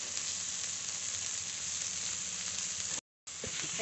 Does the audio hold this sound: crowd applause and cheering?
no